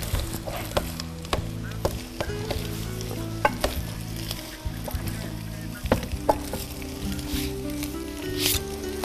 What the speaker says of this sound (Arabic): بس خليني احرك هدول شوي